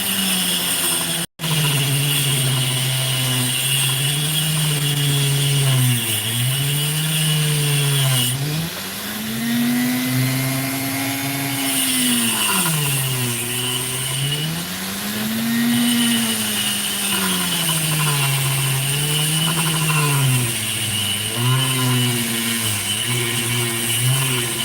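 A power saw slices through opal-bearing sandstone with a steady, loud, whining drone that dips and rises in pitch as the blade bites and eases in the stone, running continuously throughout.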